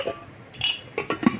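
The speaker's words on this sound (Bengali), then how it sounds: "এটা একটা অ্যালুমিনিয়ামের কড়াই, ছোট্ট দেখে খুব সুন্দর" A small aluminium pot clinks and knocks as it is handled, with a few sharp metallic taps and light scrapes in short bursts, close by and fairly quiet.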